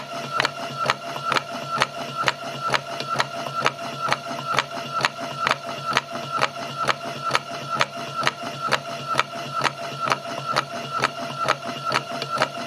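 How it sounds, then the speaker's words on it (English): A steady mechanical rattle repeats in quick, even pulses as a transmission motor assembly contacts a rough section of its fixed drive belt, clattering continuously with a rough, gritty texture throughout. "the motor assembly rattling when the transmission control unit comes into contact with the rough section of the belt"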